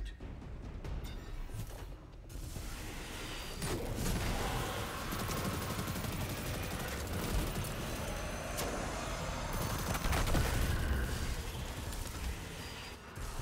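Dense, continuous gunfire and explosive bursts from combat in the video game Destiny 2, loud and sustained throughout with no pauses.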